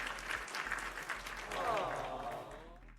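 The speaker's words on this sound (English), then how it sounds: "a big round of applause to JD." Applause sound effect dropped into a podcast shout-out, a steady wash of clapping at moderate level with a low hum underneath, tapering off near the end.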